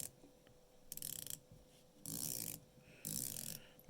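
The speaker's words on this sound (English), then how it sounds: "Bezel action's pretty good." Tissot Seastar watch with a 120-click bezel being rotated, producing quick bursts of fine ratcheting clicks, faint and close, in three or four separate turns with short pauses between.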